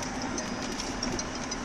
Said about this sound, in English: It's trying to lift, but the gear is broken.